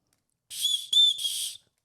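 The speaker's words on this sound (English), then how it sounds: "If you break a leg and you end up, laying in the woods and you need to get attention. Little signal whistle." A small survival signal whistle is blown, giving a shrill, piercing tone in three quick blasts, loud and close, alone against silence.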